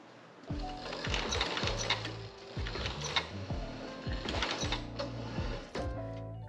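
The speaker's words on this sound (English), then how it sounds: "I ran the foot of the sewing machine along the edge of the zipper to keep a straight line." A sewing machine stitches along a zipper edge on a cushion cover for a Ford Transit van build, running in steady mechanical bursts with brief pauses and restarts, its rhythmic needle chatter close and moderately loud.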